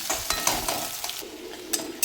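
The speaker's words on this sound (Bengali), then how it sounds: "দুটো মিডিয়াম সাইজের পেঁয়াজ আর দিয়ে দিয়েছি কেরা কাঁচা লঙ্কা তারপরে দু মিনিট মতো হালকা আছে ভেজে নেব" Medium onions and green chillies frying in a pan, a soft steady sizzle broken by a few sharp clinks of a stirring utensil against the metal, with no voices.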